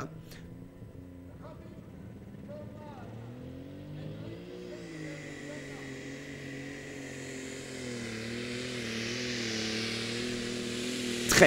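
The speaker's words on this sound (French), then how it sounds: "Très rapide comme tracteur." A powerful alcohol-fueled pulling tractor engine revs and climbs steadily in pitch at a tractor pulling event, growing louder over several seconds, with faint voices in the background at the start.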